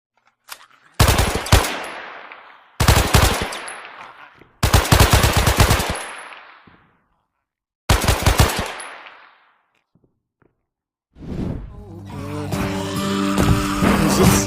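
Automatic gunfire in a zombie first-person shooter game on mobile: four loud rapid bursts separated by brief silences, each trailing off into a decaying echo, followed by a sustained rumbling mechanical din.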